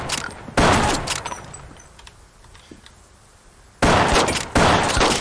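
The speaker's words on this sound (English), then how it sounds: "You're lucky this is a shotgun" Shotgun blasts in the tactical police game SWAT 4, heard as loud, close, sudden booms: one near the start and two more near the end, each with a short decaying tail and a quieter stretch between.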